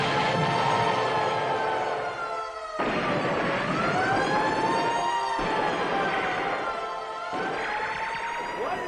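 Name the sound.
air raid sirens in a tune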